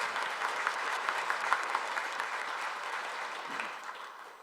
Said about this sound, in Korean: 박수로 감사 박수 한번 드리고 싶습니다.